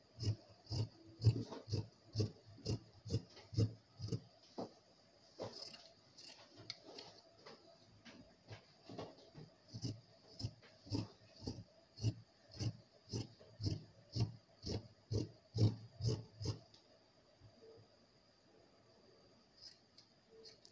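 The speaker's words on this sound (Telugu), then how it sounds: "ఈ విధంగా లాస్ట్లో ఎప్పుడు కూడా కొంచెం క్రాస్ కట్ చేసుకోండి." Scissors cross cutting blouse fabric: a steady train of crisp snipping clicks, about one per second, close and fairly faint, running alone for most of the stretch before stopping near the end.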